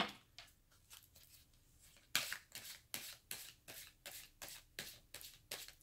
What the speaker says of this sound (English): I don't know why I'm shuffling them again.